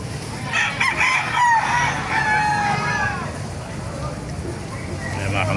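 A rooster crows in drawn-out, wavering calls over steady background noise at a chicken market, with other birds clucking nearby and some low rumble beneath.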